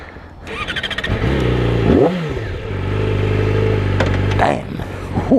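A 2019 Yamaha R6 sport bike fitted with an Akrapovic exhaust cranks and fires up, then is revved hard in repeated rising and falling blips, loud and close, with a squealing edge between pulls.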